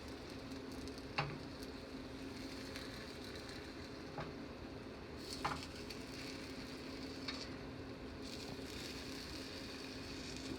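Egg cooks in a pan, giving a faint, continuous sizzle with occasional soft clicks and scrapes as the pan is moved and tipped, with no talking.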